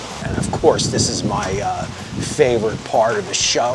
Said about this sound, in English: I do apologize for the wind, the noise, the rain that you're getting at this moment